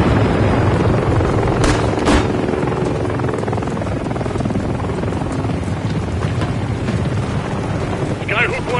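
Military helicopters roar steadily overhead in a Call of Duty campaign battle, a loud continuous rotor drone with wind-like rumble, brief sharp bursts and a voice cutting in near the end.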